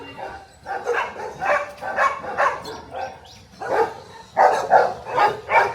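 Caged dogs, including huskies and Dobermans, bark at a pet park in Mysore, a close, rhythmic series of repeated barks in two bursts with a short pause between.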